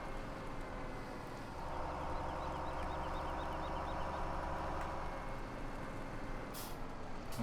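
A Kenworth W900 daycab semi truck being driven in Farming Simulator 17, a steady loud diesel engine drone with a rising rumble and a brief air hiss near the end, no voices.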